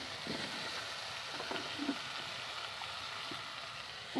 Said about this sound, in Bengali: আমি ডুমো ডুমো করে আলু কেটে রাখা আলুগুলো এই তেলে আমি এটাকে লাল লাল করে ভেজে নেব